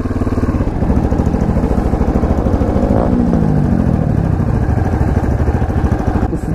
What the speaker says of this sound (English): This is the KTM 640.